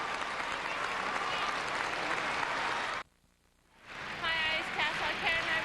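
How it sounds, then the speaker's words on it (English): Crowd applause at a world figure skating championship in an arena, a dense roar of clapping that cuts out abruptly, then swells back with cheering and whistles. "The crowd still buzzing."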